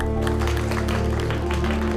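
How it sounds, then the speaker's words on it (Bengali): A large audience claps steadily in a loud, dense wash of applause, with music or crowd noise underneath for the full two seconds. "সবাই জোরে হাততালি দাও।"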